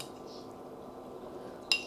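A metal spoon clinks against a dish as two or three spoonfuls of hot sauce go into a vinegar dressing, with a faint bright scrape followed by two quick close clinks at the end.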